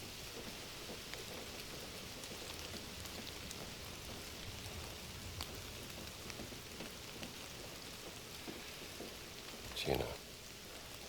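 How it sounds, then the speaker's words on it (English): Steady rain falling in a video game world, set in Indiana Jones and the Great Circle, a constant broadband wash with scattered drops, a brief louder burst near the end, and faint voices mixed in. "Don't you love rain?"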